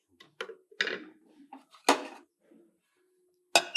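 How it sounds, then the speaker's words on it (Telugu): Kitchen clatter of metal pots while an herbal decoction is strained and a lid is set on the pot, several sharp clanks and scrapes with quiet gaps between them. "మనం స్ట్రెయిన్ చేద్దాము మూత పెడదాము"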